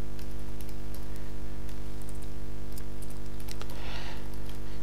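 Typing a product name on a computer keyboard at a retail point-of-sale till, with faint scattered key clicks over a steady background hum.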